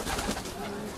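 Racing pigeons coo at a loft during a race day in Volos, a busy mix of soft throaty calls, close and fairly loud.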